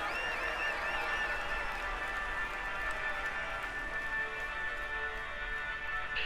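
Continuous crowd cheering and applause in the Tour de France 2020 cycling video game, a steady loud wash of clapping and voices with a faint whistle-like tone running through it.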